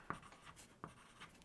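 Pencil writing on paper close up: a few faint scratchy strokes with two sharper taps as the tip meets the page, quiet and alone with no talk.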